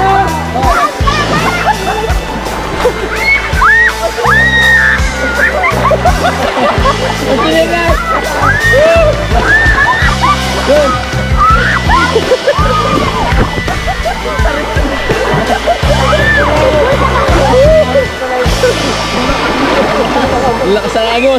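A strong river current rushes and splashes loudly and continuously in Mindoro, with people shouting and talking over the churning water throughout.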